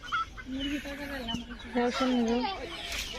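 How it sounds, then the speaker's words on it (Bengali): A chicken that has escaped and is being chased in a rural village clucks repeatedly, close and loud, in quick agitated bursts. "তার মুরগি ছুটে গেছে, বর বাবা ডাকতেছে মুরগির দিকে"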